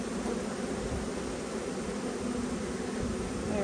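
A dense, steady drone of honeybees buzzing inside a hive, sounding close and continuous as the colony calls toward the queen, with no talking.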